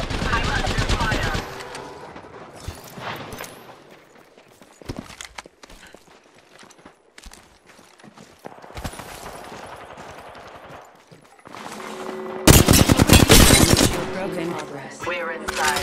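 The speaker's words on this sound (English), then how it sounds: "Getting shot at." Gunfire and combat effects in the video game Apex Legends, with bursts of automatic weapon fire, scattered impacts and footsteps, louder firing toward the end, mixed with game voice lines.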